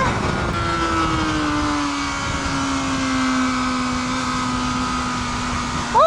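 A Kawasaki ZX-4RR motorcycle engine on a circuit, holding a high steady whine at near-constant revs under sustained wind rush, then a brief change in pitch at the end.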